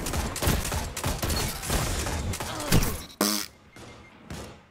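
Hand cannon gunfire in a PvP/PvE video game, a rapid run of sharp booming shots followed by a few spaced heavier blasts and thuds, loud and close.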